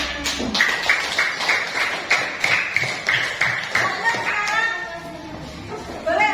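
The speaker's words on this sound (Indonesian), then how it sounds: "Tepuk tangan." Children in a classroom clap their hands together in a steady rhythmic pattern of sharp, close taps, about a dozen beats in a row, with young voices chattering and calling out through and after the clapping.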